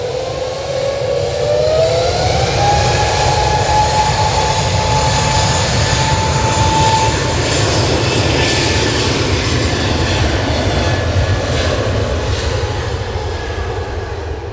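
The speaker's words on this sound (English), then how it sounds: "It's A320 Neo is about to go back to Heathrow." An Airbus A320neo airliner heads for Heathrow with a loud, close jet roar and a clear whining engine tone that rises early and then holds, heard alone.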